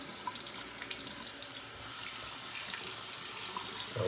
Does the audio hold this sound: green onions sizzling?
no